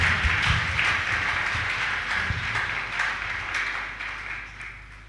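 A large audience at a live mission conference in a church claps steadily, a dense, even applause that fades slightly toward the end with no voices over it.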